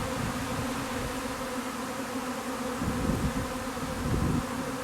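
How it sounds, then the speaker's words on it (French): A swarm of honeybees settled in fir trees, including a Douglas fir, gives a dense continuous buzzing drone close by, steady with slight swells in loudness and no talking. "les essaims quand ils sortent des ruches, ils se positionnent dans les sapins"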